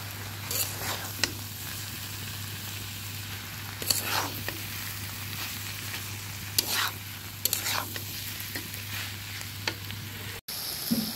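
Snake gourd stir-frying in a pan, a soft continuous sizzle over a low steady hum, punctuated by repeated scraping and stirring strokes at irregular intervals.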